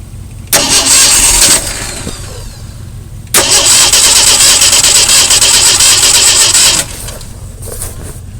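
A 40-year-old Jeep CJ7 with a bad fuel pump cranks loudly in two long bursts, separated by a short pause; the engine turns over with a rapid, grinding rhythm but never catches.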